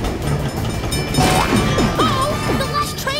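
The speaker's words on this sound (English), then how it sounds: "Hey, look! The train's coming through." A train rolls through in the Blaze and the Monster Machines kids' video game, with clattering impacts and rising cartoonish tones over steady background music, fairly loud and close.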